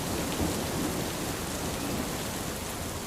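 Steady rain falls in a cartoon scene of a pond in a jungle, a continuous even hiss of many drops with no talking.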